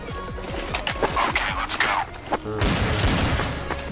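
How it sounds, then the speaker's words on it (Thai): Sharp sniper rifle gunshots from the video game Counter-Strike: Source crack and boom amid game effects, a few loud, echoing reports separated by short pauses. "การยิงปืนครับ สไนเปอร์ครับ"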